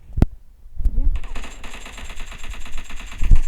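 Gunfire in a shooting video game: two sharp single shots, then a sustained rapid automatic burst that rattles continuously to the end, loud and close.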